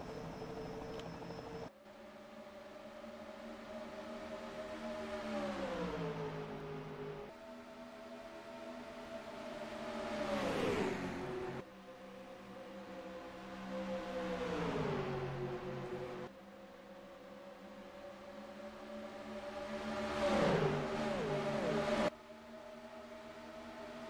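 Engines of racing cars in a Disney Cars video game rise and fall in pitch again and again, loud and continuous for over twenty seconds, with gear-like drops and sweeps and no talk.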